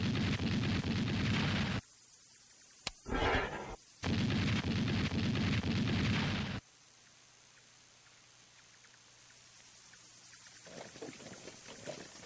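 A 57mm anti-aircraft gun fires during the air war over Vietnam: two long, loud roaring blasts broken by a sharp crack, then the sound fades into a low, distant rumble with scattered faint pops.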